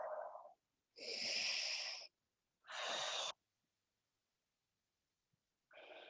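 Deep, forceful breaths during a Pilates session: three or four loud, close inhales and exhales, each lasting about a second, separated by silent pauses.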